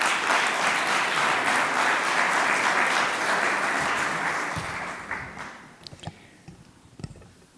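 Loud applause from an audience at a Spanish-language event on the power of the word as a speaker walks to the lectern. Dense, sustained clapping fades after a few seconds into a few scattered final claps.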